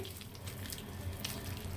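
Hands working toddy palm fruit pulp in water for a traditional recipe, producing steady, close wet sloshing and splashing with a few brighter splashes, no voices.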